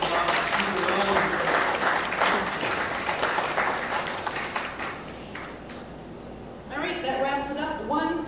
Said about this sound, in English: Everybody, please give her a round of applause.